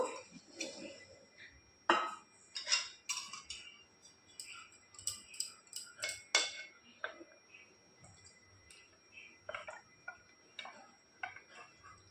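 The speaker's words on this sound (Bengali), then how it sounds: "এখন একটা পাত্রে ঢেলে নেব" Paneer malai curry is transferred from a pan into a bowl, giving scattered light metallic clinks and taps of utensil against cookware, quiet and close, with no talking.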